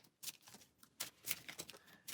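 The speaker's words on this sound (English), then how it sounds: "And we will go ahead and shuffle" A deck of game cards for a Marvel Champions tabletop session being shuffled, several quick riffling bursts close by, separated by short pauses, with no talking.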